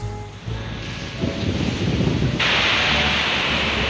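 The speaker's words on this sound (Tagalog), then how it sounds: "napakalakas ng alon ngayon pero ganda rin siya" Strong surf breaks against the seawall at Baluarte in Luna, La Union, a steady heavy roar of crashing water and wind that swells louder midway and holds, with no talk over it.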